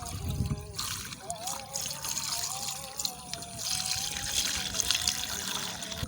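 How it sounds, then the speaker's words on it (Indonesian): Mixed plant nutrient solution pours into a sprayer tank, a steady close trickle and splash of liquid running for several seconds with some faint background noise. "Lanjut kita tuangkan."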